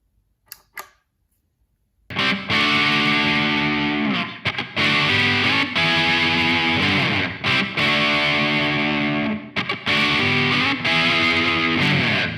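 After a couple of faint taps, a distorted electric guitar rings out with crunchy chords in a classic rock style, strummed in loud sustained phrases with brief gaps.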